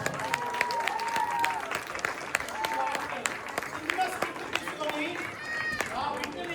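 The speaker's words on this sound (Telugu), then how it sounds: "Give them a big round of applause please." An audience claps steadily after a Lava Kusa stage skit, with scattered sharp claps and crowd noise running throughout, mixed with faint voices.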